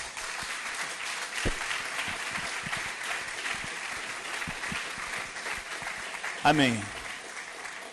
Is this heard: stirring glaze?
no